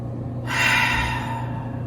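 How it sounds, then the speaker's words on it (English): One full, audible breath drawn during a yoga practice, hands at the heart: a close, airy inhale-exhale swelling for about a second over a faint steady background hum. "Nice full breath."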